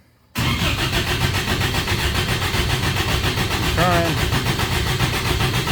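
A vehicle engine started for the first time in a shop cranks and catches, then runs loud and steady with a rough, busy roar, while a voice speaks briefly over it.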